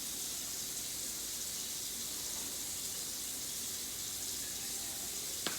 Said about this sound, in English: Now I am gonna add some water to the bottom of my pan